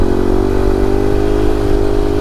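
Motorcycle engine held at steady high revs during a wheelie with the rear brake continuously applied, a loud, constant droning roar with slight rise and fall, close by and without speech.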